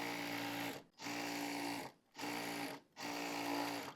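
Sewing machine stitching a seam on fabric for warm winter plazo pants, running in three steady bursts with brief pauses between them, near and alone.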